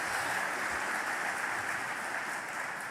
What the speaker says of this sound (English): yeah, I think it's worth clapping